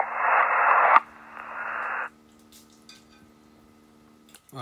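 CB radio receiving on USB sideband: a loud burst of hissy, band-limited voice-like audio for about two seconds, then quiet static with a faint steady tone and a brief crackle at the end.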